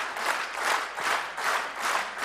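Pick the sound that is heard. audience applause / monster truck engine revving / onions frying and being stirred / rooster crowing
audience applause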